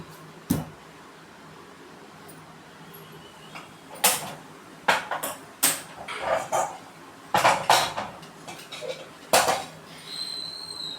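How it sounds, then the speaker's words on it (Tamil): Garlic cloves are crushed with their skins on, a series of sharp, irregular thuds and knocks, close and fairly loud, separated by quiet stretches. "பூண்டு பல்லெல்லாம் நல்லா நசுக்கிக்கணும்"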